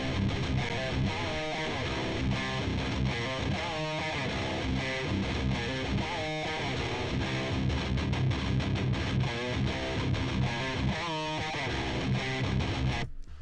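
A distorted electric guitar track, heard alone: a dense, loud, heavily overdriven riff with chugging palm-muted rhythms and accented chords running without a break.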